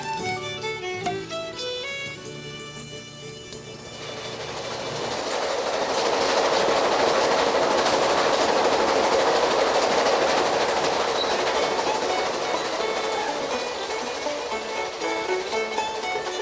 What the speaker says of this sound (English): The train leaves New Orleans, heading east in the early morning hours.